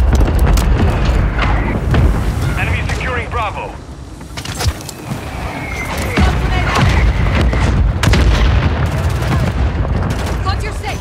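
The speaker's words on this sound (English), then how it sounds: "Friendly mortar strike on the way." Mortar strike explosions in Call of Duty Modern Warfare III, loud booms and gunfire crackling through a busy battle mix with voice callouts over the top.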